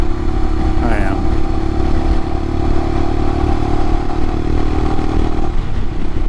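A 2022 Royal Enfield Himalayan with a Hitchcocks carburetor conversion rides along at a steady engine drone, with a brief clatter early on and a slight rise in revs near the end.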